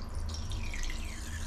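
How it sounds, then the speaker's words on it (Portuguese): A glass of vinegar poured into a toilet bowl, a faint trickling and dripping of liquid into water, heard close and quiet. "Você vai colocar um copo de vinagre"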